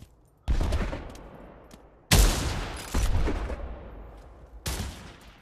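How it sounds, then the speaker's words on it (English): Four loud, separate rifle shots in the WWII VR shooter Pavlov, each a sharp crack followed by a long echoing decay, spaced irregularly with no talking between them. "Oh, that was a good shot."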